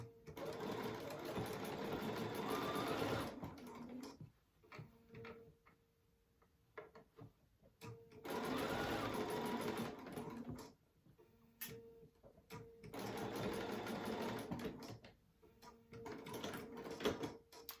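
A sewing machine stitches binding onto fabric in three long, steady runs of rapid mechanical chatter, close and moderately quiet, separated by pauses with small handling clicks and no speech.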